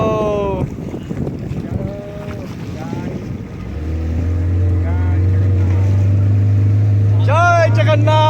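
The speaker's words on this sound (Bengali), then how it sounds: "বোট ছেড়ে দিয়েছে বন্ধুরা, স্পিড বোট।" A speedboat pulls away across a lake, its engine settling into a steady, loud drone beneath wind noise and excited voices of passengers chatting nearby.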